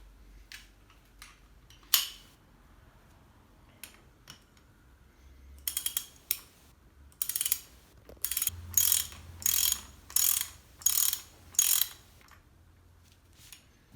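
Ratchet wrench with a 22 mm socket working on a 1997 Honda RS125 front fork preload adjuster, giving bursts of quick metallic clicking that start sparse and grow into a steady run of repeated ratchet strokes, close and clear.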